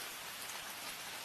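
Steady rain falling, a dense, even hiss of drops on a surface with no breaks, close and continuous across the whole stretch, no voices.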